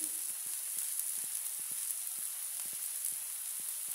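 A besan and tomato omelette sizzles steadily in a pan, a constant close hiss with small irregular pops and spatters scattered throughout, no voices present.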